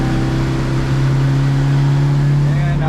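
A Yamaha F70 outboard on a 16ft Arima boat runs at steady throttle during a water test, a loud, continuous motor drone with a strong low hum throughout, partly under a voice.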